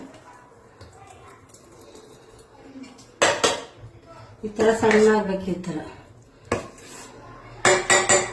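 Ground batter being moved from a mixer jar into a vessel: bursts of clanking metal utensils and scraping, with someone talking between the clatters.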